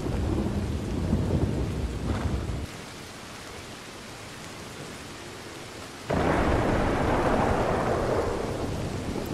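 Rolling thunder and heavy rain during a lightning storm in Red Dead Redemption 2, with a loud rumbling crash at the start, a quieter rainy lull, then another sustained booming thunderclap.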